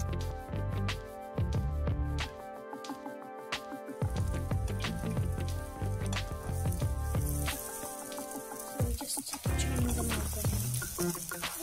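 French toast rolls frying in a pan, a dense steady sizzle with occasional soft squishes and scraping from handling the rolls, close and fairly loud, no talking.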